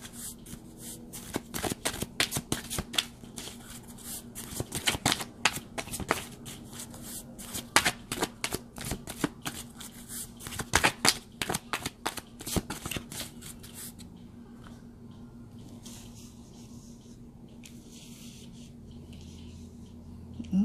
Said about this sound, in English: I was shuffling them upside down